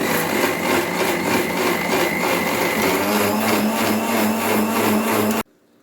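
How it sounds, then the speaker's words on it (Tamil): A mixer grinder whirs loudly and continuously, its motor droning with a grinding texture, then cuts off abruptly. "ஒரு அரை கப்பு தண்ணி விட்டு மிக்ஸி ஜாரில் போட்டு மை போல் அரைச்சி எடுக்கணும்"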